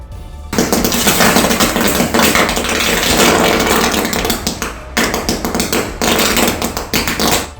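Sparking electrical power lines give loud, harsh crackling and buzzing bursts almost without a break, with brief sharp pops and a short pause partway through.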